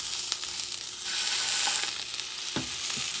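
Liver with onions fries in a pan, a thick piece of meat sizzling with a steady crackling hiss, broken by occasional louder pops and the scrape of stirring.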